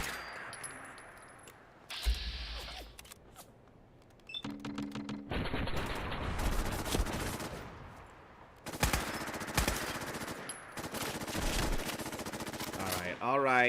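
Gunfire in Fallout 4, with bursts of rapid automatic shots and single cracks mixed with clanking game effects, loud and close, repeating in clusters across the stretch.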